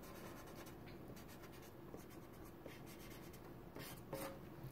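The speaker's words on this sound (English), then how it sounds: "I'm going to draw a bar line because I have 4 beats." Pencil or pen drawing a bar line on paper for a recorder rhythm lesson, a faint, close scratchy stroke that rubs along quietly for a few seconds.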